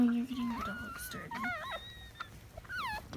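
A dog whimpers and whines close by in rising and falling high-pitched cries, with a few short yips mixed in.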